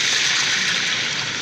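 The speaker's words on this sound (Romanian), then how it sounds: "Acum o să pun apă" Water poured into a pan of frying beef makes a loud, continuous rushing hiss that tapers slightly as the pour goes on.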